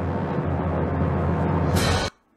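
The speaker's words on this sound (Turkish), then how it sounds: "Dem osurdu bana böyle geldi." A fart sound in a Turkish commentary over a Winx cartoon: a loud, dense, broadband rasp runs steadily for about two seconds, brightens sharply near the end, then cuts off into near silence.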